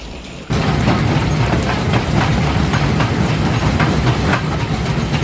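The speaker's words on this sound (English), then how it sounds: "The rumbling sound of the crusher can be heard as large chunks of rock are fed into the conveyor" A stone crusher rumbles loudly and continuously as large rock chunks are fed in, with a dense clattering grind and irregular knocks, close by and without talk.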